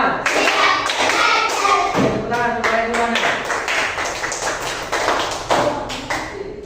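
Hands clapping in a rhythmic classroom clapping game, the count-of-five round, as a steady patter of close claps and thuds under overlapping voices.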